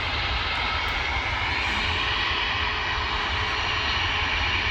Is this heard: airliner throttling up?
yes